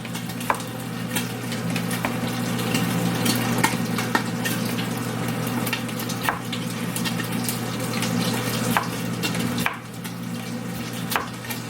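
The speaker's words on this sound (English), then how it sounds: "Now that the eggs are kind of brown and fried already" Eggs fry in a pan for an egg curry, giving a steady close sizzle under running or splashing water, with scattered light clicks and clatters throughout.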